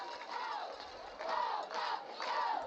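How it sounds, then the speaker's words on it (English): Los Fresnos home crowd roaring at a UIL area-round high school football game as players head into the tunnel, a loud sustained mass of cheering and yelling that swells in repeated surges. "the home crowd of Los Fresnos making some noise as their players make their way into the tunnel"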